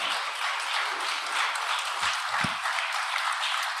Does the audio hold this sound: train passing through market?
no